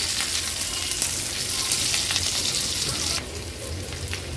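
Chopped onion sautés in hot oil for a home-style veg thali, a steady close sizzle with crackling spits that keeps going and drops slightly in brightness near the end, with no voices.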